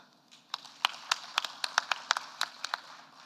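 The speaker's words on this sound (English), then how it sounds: "give them a clap" Sparse applause from a small audience at an annual regulators' summit: a dozen or so separate, fairly sharp claps scattered unevenly over a few seconds, moderately close, with no voices over them.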